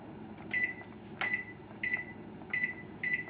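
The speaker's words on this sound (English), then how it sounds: "We'll set the timer." Kitchen timer being set in a home kitchen, five short electronic beeps spaced roughly evenly, close and clear over quiet background.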